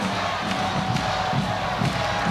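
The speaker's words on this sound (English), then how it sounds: "Here comes the crowd getting into it." Crowd cheering and shouting at a women's college volleyball match between the Rainbow Wahine and St John's, a loud, steady roar of many voices with swells of louder yelling throughout.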